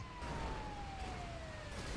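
An ambulance siren in the GTA 5 video game wails faintly and steadily in the distance, a thin sustained tone sliding slowly downward over a broad low rumble of game ambience.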